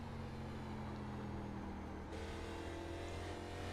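An ARCA race car engine in a racing video game at North Wilkesboro drones steadily at high revs. Its tone shifts abruptly partway through as the throttle changes, with no voices.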